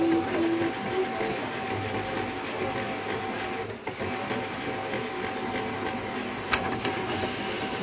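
A Canon i-SENSYS MF3010 laser printer with an E001 error straining to feed paper, giving a steady mechanical whir and hum with a few sharp clicks and knocks, while someone talks over it.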